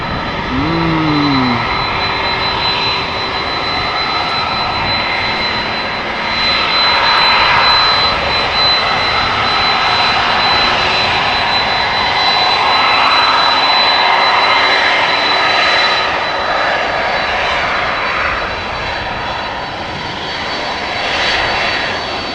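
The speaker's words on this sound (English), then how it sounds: "Old school engine sounds. Listen to that, folks." A TUI Boeing 767-300 takes off at Amsterdam Schiphol Airport. Its jet engines give a loud, sustained roar with a steady high whine that swells and eases over about twenty seconds, and no one speaks.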